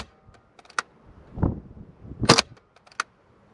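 A KWA gas blowback airsoft gun, an F90 or Q10, fires outdoors at a target near a tree, giving a few sharp cracking pops at uneven intervals with faint clicks between and no talking.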